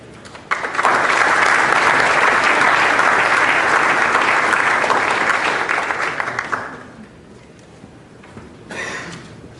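Audience applause welcoming a speaker to the podium at a morning talk, a full crowd clapping steadily for about six seconds before fading out, followed by a brief quieter stir near the end.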